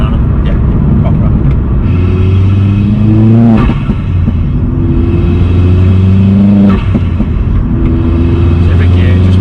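Vauxhall Astra VXR with a stage 3 hybrid turbo accelerating hard, loud rising engine roar through several gear changes with sharp revving sweeps, heard from inside the car.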